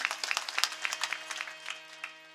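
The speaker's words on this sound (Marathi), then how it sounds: "जोरात टाळी वाजवा त्यांच्यासाठी." Audience clapping at a Warkari kirtan festival, a dense burst of many hands that rolls steadily for a couple of seconds and gradually thins toward the end.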